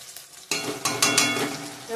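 Chicken in a pan bursts into a loud sizzle as chilli powder goes in, followed by a few quick stirring scrapes. The close frying hiss keeps going steadily to the end, with no voices.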